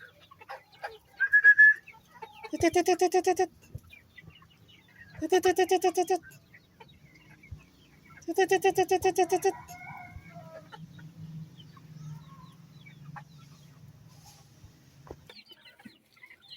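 Backyard pet chickens at feeding time, with a rooster crowing three long times at a steady interval over quieter clucking and faint scratching, one short high squawk early on.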